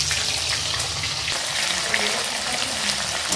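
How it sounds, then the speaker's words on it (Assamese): Panch phoron spices, bay leaf, dried chilli and onions frying in hot oil, a steady close sizzle with faint crackle throughout, no voices. "ইয়াত চাওক পাঁচফোৰণ আছে, এইফালে মাহপাত আছে আৰু জলকীয়া এনেকৈ দি দিলো আৰু ইয়াত চব কি ধুনীয়া শব্দ ওলাইছে"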